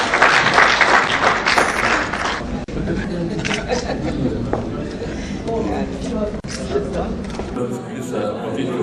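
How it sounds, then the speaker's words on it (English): Audience applause at an anniversary lecture, a loud burst of clapping that gradually thins into scattered claps, with chatter and light laughter mixed in. "Round of applause."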